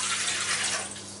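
Lukewarm water poured into a bread machine pan for Moroccan semolina bread, a brief, steady, close splashing rush that tapers slightly at the end.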